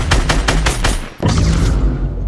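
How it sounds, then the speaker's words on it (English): Rapid bursts of gunfire in the Fortnite battle royale game, a fast rattling string of loud shots for about a second, a brief gap, then another dense barrage of firing. "I'm gonna shoot it until it kills me"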